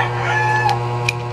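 Chicken clucking and a short crowing note, close by, over a steady low hum with no talking.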